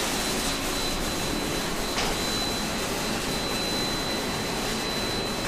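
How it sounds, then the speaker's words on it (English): High-speed CNC machining of snap grooves and O-ring grooves in an aluminum jacket connection ring: a steady, dense, whooshing machine roar with a thin high whine, continuous and close, no voices. "it's machining all the snap grooves and the O-ring grooves"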